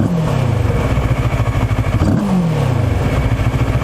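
A QJ Motor SRT700 motorcycle engine revs up twice in quick succession, each rise falling back to a rough, loud idle, close by.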